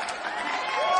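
A studio audience applauds and cheers to welcome Hugo Aparicio on a television cooking show, giving a brief, dense burst of clapping and crowd noise at close range.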